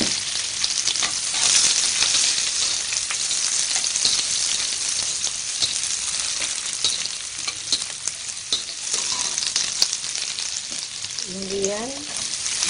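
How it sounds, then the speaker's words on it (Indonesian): Garlic frying in hot oil in a pan, a steady loud sizzle and crackle that runs the whole time, with occasional stirring clatter and a short voice near the end. "Saya goreng bawang putihnya."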